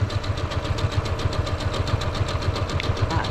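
A sewing machine stitching quilt blocks with a quarter-inch seam, running in a fast steady rhythmic whir of close, even pulses throughout.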